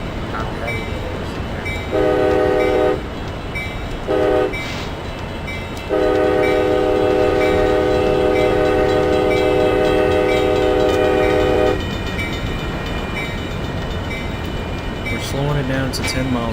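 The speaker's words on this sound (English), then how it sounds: "it's just a light passenger train" A Surfliner passenger train horn in Open Rails sounds in three blasts, two short then one long, over a steady rumble of rolling rail cars with a faint voice underneath.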